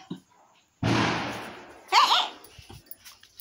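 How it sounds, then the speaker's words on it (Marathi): Diwali firecrackers go off nearby, starting with a long loud crackling burst followed by sharper pops, while a frightened pet dog whimpers between them. "सगळीकडे फटाके आहेत रे"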